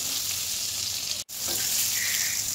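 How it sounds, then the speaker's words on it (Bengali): Pointed gourd pieces frying in hot oil with turmeric and salt, a loud close continuous sizzle broken by one brief cut midway. "আমি এর মধ্যে কেটে রাখা পটলের টুকরোগুলো দিয়ে হলুদ লবণ দিয়ে ভালোভাবে লাল লাল করে একটু ভেজে নেব"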